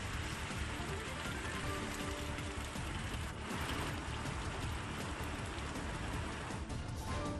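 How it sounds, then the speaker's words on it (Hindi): Heavy rain with strong wind in Jalandhar, a steady dense roar of rain hitting surfaces, loud and continuous with no talking. "जालंधर में तेज हवा के साथ बारिश"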